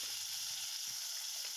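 Cumin seeds fry in hot mustard oil in a pan, giving a steady, close, bright sizzle that never lets up, with no talking.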